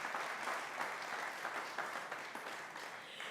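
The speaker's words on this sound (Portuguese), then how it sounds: "nós também pedimos um aplauso para a senhora Vivian" Sustained audience applause at a Simplesmente Antonieta programme event, a dense, steady patter of many hands clapping for its full length at moderate level, with no talk over it.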